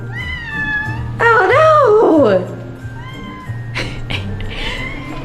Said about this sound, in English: Cat! What you gotta say?